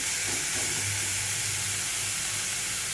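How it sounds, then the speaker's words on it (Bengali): Potato pieces lightly frying in ghee for a potato kheer, giving a steady, soft sizzling hiss with a faint low hum underneath, continuous and unbroken throughout. "আলুটা আমি একটু ঘিয়ের মধ্যে জাস্ট হালকা করে একটু ভেজে নেব"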